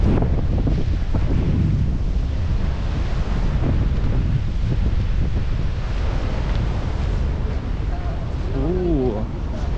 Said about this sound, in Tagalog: Lakas pa rin ng hangin ngayon.